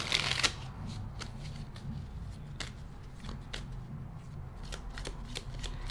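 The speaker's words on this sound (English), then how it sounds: "I definitely need to shuffle these." Tarot cards are shuffled by hand, giving a dense, close papery riffling with crisp flicks and taps repeating steadily throughout.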